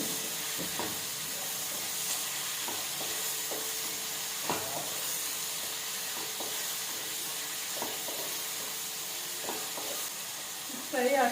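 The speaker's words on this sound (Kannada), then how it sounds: "ಇದು ಫ್ರೈ ಆಗಲಿ." Potato and capsicum gravy fries in a pan, a steady soft sizzle and hiss with intermittent stirring scrapes and taps, fairly quiet and close.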